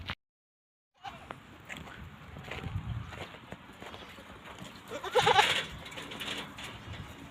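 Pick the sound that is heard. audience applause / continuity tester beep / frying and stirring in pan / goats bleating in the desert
goats bleating in the desert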